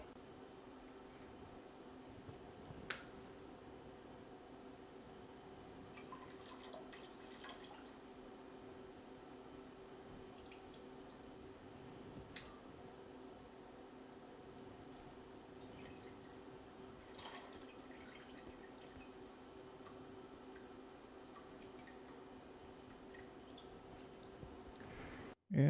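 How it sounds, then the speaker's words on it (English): Strawberry ginger wine drips from lifted straining bags: a faint, steady trickle and patter of liquid with occasional soft drops, quiet and continuous over a low background hum. "we want to temporarily remove the straining bags. Letting it drain a little bit."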